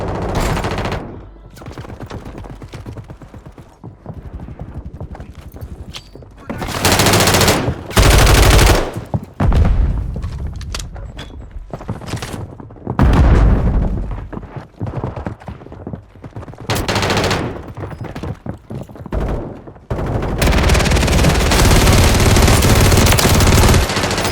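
Gunfire in the video game Warzone 3 comes in repeated loud bursts of automatic fire, with dense rapid fusillades broken by short quieter gaps and sustained shooting at the end.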